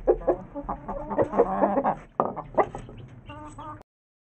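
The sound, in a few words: hens clucking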